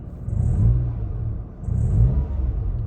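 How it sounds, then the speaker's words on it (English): A 2012 Nissan Micra 1.2 with CVT automatic revs twice from idle, each rise and fall swelling for about a second in a low, steady engine rumble heard close up, with no talking. "and we'll give it a rev"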